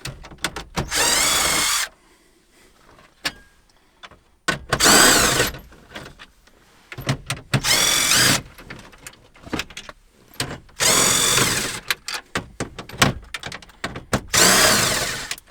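A power driver fitted with a 7mm socket backs screws out of a car dashboard during a navigation stereo install, sounding in several loud whirring bursts separated by quiet pauses.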